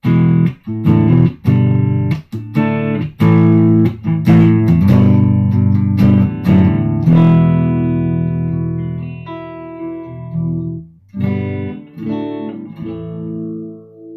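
An electric guitar, a 1984 Ovation Ultra GS, played through a distorted amp, a run of strummed chords and picked notes with sustain, then a few sparser chords near the end.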